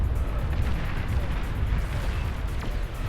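Explosive hits land on units in the real-time strategy game Beyond All Reason, a dense continuous rumble of blasts and booms with no clear gaps between them.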